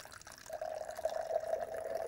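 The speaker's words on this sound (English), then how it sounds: "we'll just pour the water and just observe what the water is doing as it falls." Water poured into a glass at an outdoor gathering gives a steady trickling, filling sound that builds after a brief start and keeps running at moderate loudness to the end, with no talk over it.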